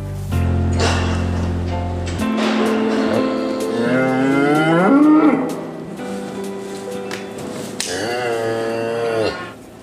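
Cows and calves on a farm moo loudly and close by, several long drawn-out calls one after another with short pauses between, some deep and some higher and wavering.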